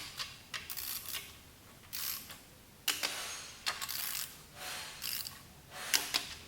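A ratchet or torque wrench tightening a bolt on the gear housing of a high-compression 416-cubic-inch LS drift engine gives close, repeated bursts of metallic clicking with short pauses between strokes, and no talking.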